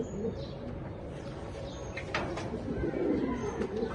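Pigeons coo at a pigeon farm, with soft, continuous throaty murmuring from several birds at close range and a few brief higher chirps rising above the steady flock sound.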